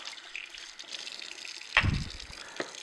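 Water runs and splashes as parts of an Omega Sana EUJ-606 juicer, such as the pulp regulator, are rinsed under a tap, with a soft steady flow and a brief louder gush midway.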